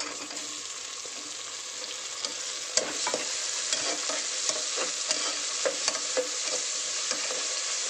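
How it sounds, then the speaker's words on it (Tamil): Onions sautéing in a pan for avarai paruppu rice, a steady close sizzle with scattered light scrapes of a stirring spoon, no voices. "வெங்காயம் ஓரளவுக்கு நல்லா வணங்கிடுச்சு."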